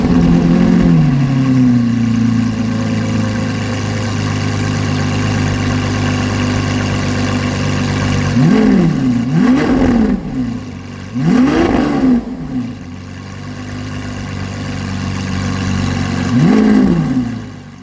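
A supercar engine cranks and settles into a loud, steady idle indoors, then is revved hard three times in quick succession and once more later, each rev rising and falling sharply before dropping back to idle.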